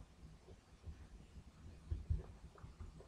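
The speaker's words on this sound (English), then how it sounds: "That heartbeat is not helping at all." Low, muffled heartbeat thuds from the horror video game Dungeon Nightmare, faint and throbbing under a dull ambient hum, with a couple of stronger beats near the end.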